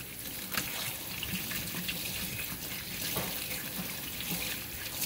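Hot water runs steadily from a kitchen tap as a cleaning cloth is rinsed after wiping up spilled egg, a constant close splashing rush with no talking.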